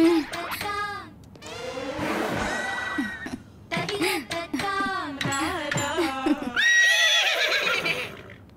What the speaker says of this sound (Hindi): ये अरेबियन घोड़ी लगती है